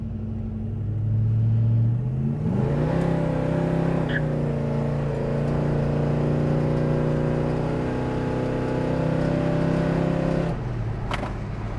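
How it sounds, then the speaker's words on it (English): A 1970 Chevrolet Chevelle SS on the road accelerates through its gears, the engine note climbing then holding a strong, steady drone at speed before easing off near the end, heard from close by without talk. "We're running through a few gears here for you."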